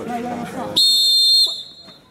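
Referee's whistle at a Coppa Liguria amateur football match between Ospedaletti and Arenzano, one loud, shrill steady blast of under a second cutting in after crowd and player talk, then a quieter tail with distant voices.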